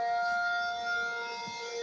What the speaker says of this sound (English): This is going to be my siren test.